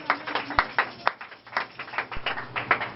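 A church congregation claps in irregular bursts at a gospel gathering in Morocco, with scattered sharp hand claps of varying loudness and a few faint voices.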